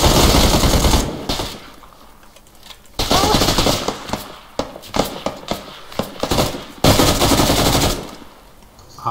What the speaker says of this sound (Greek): τον πυροβολώ μια ώρα πάλι με σκότωσε